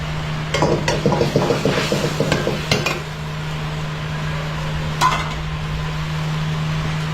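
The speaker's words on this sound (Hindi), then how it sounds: "अब में हम फिश ऐड करेंगे, जो पहले से फ्राई करके रखा" Pre-fried fish pieces stirred into a pan at a street food stall, a quick burst of rhythmic scraping and clattering strokes, then a quieter steady hum with one more knock.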